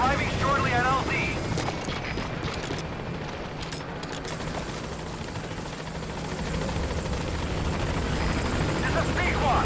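Pequod helicopter arriving at a landing zone in Metal Gear Solid V, a steady loud rotor drone filling the whole stretch alongside bursts of distant gunfire, with a voice talking briefly near the start.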